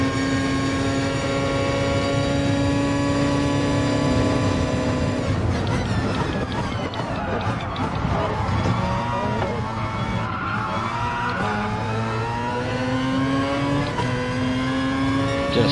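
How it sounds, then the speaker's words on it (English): Hybrid race car in Gran Turismo Sport accelerating hard, its engine a loud continuous whine rising steadily in pitch and then surging again after a brief drop, sustained throughout with no talk. "Just look at that hybrid pull itself out of the hole. That is acceleration."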